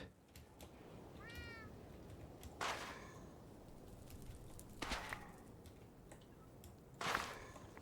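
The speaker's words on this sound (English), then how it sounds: "Why did I hear a cat?" A Minecraft cat meows in the Nether during a modded hardcore game, a short rising-and-falling call early on, with several sharp whip-like game effects sounding at intervals over steady background noise.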